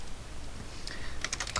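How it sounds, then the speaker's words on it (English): Close, soft keystrokes on a computer keyboard, with a short burst of quicker taps toward the end, set against faint room noise. "I'm typing"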